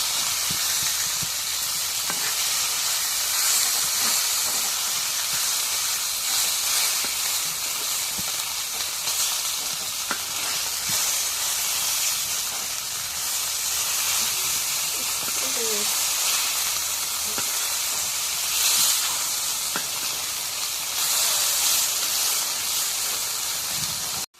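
Fresh pond fish frying in a pan, a dense continuous hiss and sizzle of hot oil held at an even, close level for the whole stretch with no clear pauses.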